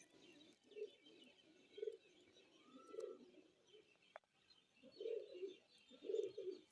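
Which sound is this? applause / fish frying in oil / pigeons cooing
pigeons cooing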